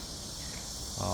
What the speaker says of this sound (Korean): 열심히 제 주위에서 울어주고 있는 매미들 소리가 들리는지 모르겠네요